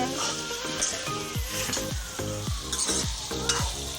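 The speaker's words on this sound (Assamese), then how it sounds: "মই লৰাই দিছোঁ ভালদৰে, যাতে তলৰখিনি ওপৰলৈ আৰু ওপৰখিনি তললৈ গৈ সিজে।" Goat meat curry stirred in a pot, with a steady sizzle under rhythmic scraping strokes of a spoon against the pan, repeating about twice a second.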